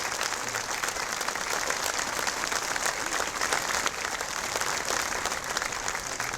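A crowd at a Veterans Day ceremony at the New Jersey Vietnam Memorial applauds steadily, a dense, even patter of many hands clapping that continues at full strength throughout.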